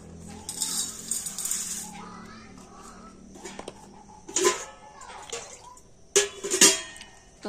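Flattened rice (chira) being washed with water in a bowl, with splashing, dripping and clattering bursts from handling the dish, coming in irregular spurts between quieter stretches.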